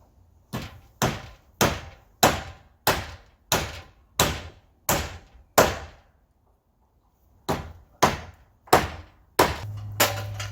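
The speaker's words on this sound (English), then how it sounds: "The rafter pieces are SPF, so they're a little bit easier to hammer into." Sharp hammer blows drive wooden strips onto rafters of a shop roof. Ten or so evenly spaced, loud strikes sound up close, then a pause, then four more strikes.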